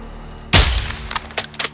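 A single loud, sharp gunshot cracks out in Call of Duty Modern Warfare 2, followed by a decaying echo and a few quieter, shorter shots trailing after it.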